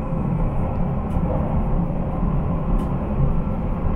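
Train rumble at Warszawa Wschodnia station in Warsaw, a steady low roar that fills the whole stretch at an even loudness, with no voices over it.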